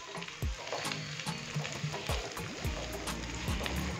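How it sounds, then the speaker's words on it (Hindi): Cubed capsicum and chicken frying together in a pan for a pasta dish, a continuous sizzle broken by repeated clanks and scrapes of stirring, fairly close. "चिकन और शिमला मिर्च डालने के बाद हमने इसको हल्का सा फ्राई कर लिया है"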